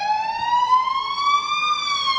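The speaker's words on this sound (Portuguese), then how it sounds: "Vamos esperar passar essa ambulância, né?" Ambulance or fire engine siren wailing loud and close, a steady rising tone with strong harmonics held for two seconds with no talk over it.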